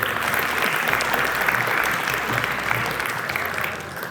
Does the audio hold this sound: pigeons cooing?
no